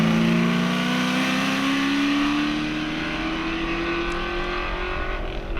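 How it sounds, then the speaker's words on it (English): A Ford Mustang race car blasts up the finishing straight of the Shelsley Walsh hillclimb, its engine holding a loud, steady rising drone as it accelerates away at full throttle. "he manhandles the Mustang through the left and right and plants the right foot for the blast up the finishing"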